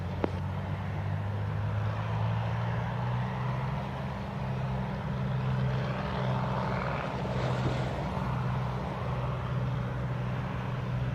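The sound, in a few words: airplane taking off at Montego Bay airport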